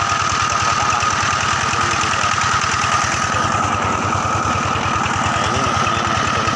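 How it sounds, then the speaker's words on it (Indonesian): A Dongfeng diesel engine powering an irrigation water pump on farmland chugs at a steady, rapid knock, loud and close, running continuously with no talking. "Nah ini mesinnya mesin Dongfeng ya."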